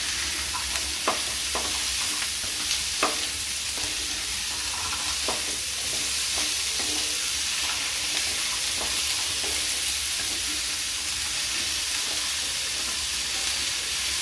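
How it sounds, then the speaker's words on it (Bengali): Diced potatoes sizzle and fry steadily in a pan for a chicken moghlai dish, with intermittent scraping stirs clicking through a constant loud hiss; no one speaks. "আগে থেকে কাটা ডুমু ডুমু করে আলুগুলো এর মধ্যে পুরোটাই দিয়ে দেব"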